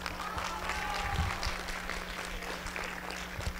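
An audience at a political rally on national sovereignty in Mexico applauds a newspaper director, a dense, moderately distant patter of clapping that stays steady throughout with a faint hum beneath.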